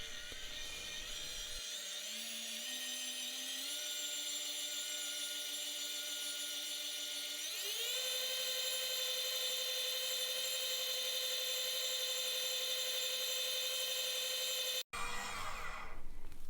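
An electric stand mixer whirs steadily as it beats cream cheese frosting with icing sugar, starting up then shifting to a higher speed, a loud continuous motor hum that briefly cuts out near the end.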